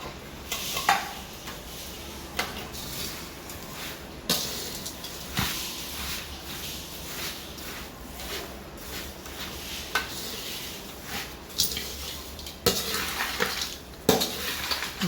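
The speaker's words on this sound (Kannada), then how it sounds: "ನಿಮಗೆ ಎಷ್ಟು ಬೇಕು ಅಷ್ಟು ಒಣಕೊಬ್ಬರಿ ಹಾಕಿ ಚೆನ್ನಾಗಿ ಕಲಿಸ್ಬೇಕು." A spoon stirring flattened rice (poha) with dry coconut in a pan, Brahmin-style seasoned snack: steady scraping and dry rustling with intermittent louder clinks against the metal pan, continuous throughout.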